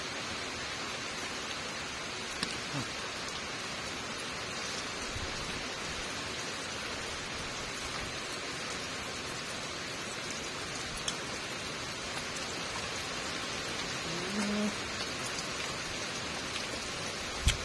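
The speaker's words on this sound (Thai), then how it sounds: "ฝนตกมาแล้วพี่น้อง" Steady rain falls outdoors, a soft continuous hiss of drops striking surfaces with a few brief pattering taps, even and unbroken throughout with no voices.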